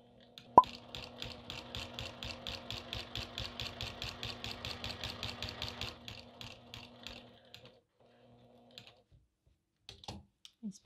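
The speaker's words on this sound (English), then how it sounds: "And then I just continue sewing." A sewing machine quilting through a quilt with a walking foot, running in a steady rapid stitching rhythm for several seconds, then slowing into a few short bursts and stopping, with small handling clicks afterward.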